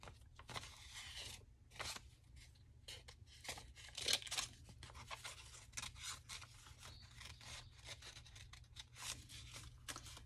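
Scissors cut through a paper window-envelope belly band with soft, repeated snips and rustling scrapes of paper, close and quiet, spread over several seconds without speech.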